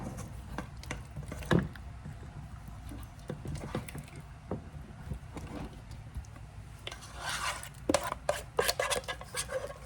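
A utensil scrapes strawberry pie filling out of a pan in a home kitchen, giving scattered, irregular scrapes and clinks, some sharper knocks, and a denser flurry of scraping toward the end.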